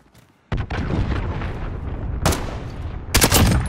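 Missile strike explosions in a military shooter video game, heavy booming blasts that start abruptly and rumble on, with sharper bursts and loud hits near the end, no talk.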